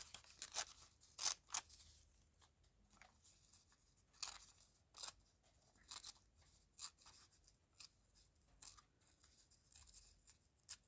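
Pattern paper is ripped by hand in short, sharp, irregular bursts, each quick tear crisp and close against a quiet background, with pauses between pulls and no talking.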